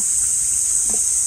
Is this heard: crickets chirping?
yes